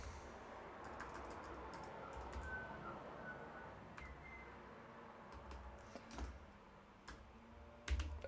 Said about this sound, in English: just typing out the full Twitch URL